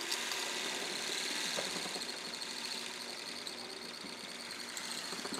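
Restored car wiper motor running on a bench power supply at low current, a faint steady whirring hum with a slight rhythmic mechanical buzz, continuous and fairly even throughout.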